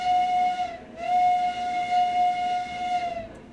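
Steam locomotive whistle in the Railroads Online train game, a sustained steady tone with a brief dip near one second and then continuing, loud and alone over a faint hiss.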